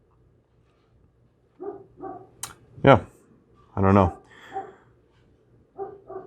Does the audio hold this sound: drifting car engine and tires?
no